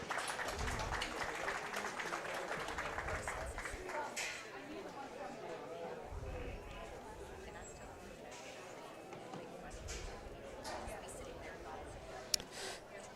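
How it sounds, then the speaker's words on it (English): Crowd applause and chatter from spectators at a county fair swine show in Las Animas County, steady and moderately distant, mixed with voices and the shuffle of movement in the arena. "Please give him a round of applause for coming out today."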